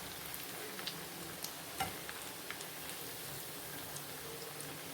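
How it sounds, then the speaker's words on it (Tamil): Chicken cutlets fry in oil over a medium flame, giving a steady, even sizzle with scattered small pops and crackles throughout, heard close and alone without any talking. "கொஞ்சம் மீடியம் ஃப்ளேமில் வச்சே தான் இதை பொரிக்கணும்."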